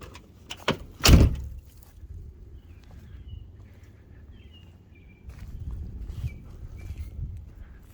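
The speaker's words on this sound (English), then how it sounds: "that door click is my favorite thing about these trucks" A 1979 Ford Bronco door closes with a single sharp, close latch click, followed by a few faint knocks and quiet outdoor ambience.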